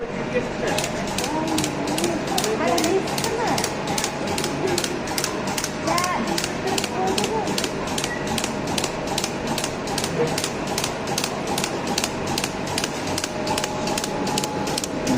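A cake batter depositing machine runs on a compressor with a rapid, regular mechanical knocking and hissing, a steady pulse throughout, close and loud, with faint voices underneath.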